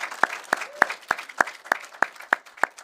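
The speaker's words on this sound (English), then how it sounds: "Let's give them one massive round of applause." Slow, evenly spaced claps ring out one at a time, about nine sharp isolated hits, close and fairly quiet, as an audience applauds a panel at a health and care leadership event.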